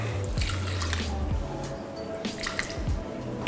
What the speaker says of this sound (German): machen jetzt Wasser und Öl hinein. Und zwar 10 Gramm Öl und 50 Gramm Wasser.